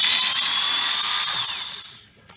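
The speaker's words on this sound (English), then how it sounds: "I've just got this little electric screwdriver that I use for wimpy stuff around the car" A small lithium electric screwdriver whirs steadily as it backs out Torx T25 screws on a Porsche Boxster 986, a close, high-pitched motor whine that holds for about two seconds, then winds down and stops.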